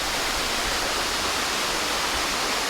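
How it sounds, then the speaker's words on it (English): Wailua Falls, an 80-foot waterfall on Maui, roars in a steady, dense rush of falling water that fills the whole short stretch without a break. "This is an 80-foot waterfall."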